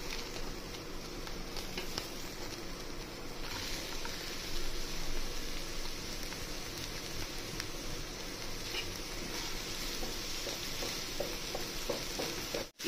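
Onions fry in a little hot oil for pav bhaji, a soft steady sizzle and crackle with faint stirring scrapes, quiet and continuous throughout without talk.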